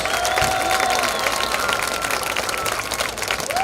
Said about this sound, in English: Bulldog Nation, one more round of applause for the 4A tennis state champions.